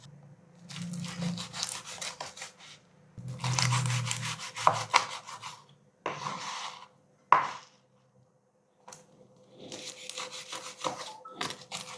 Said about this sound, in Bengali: পিস করে করে কেটে নেব। দেখুন মসমস করে শব্দ হচ্ছে।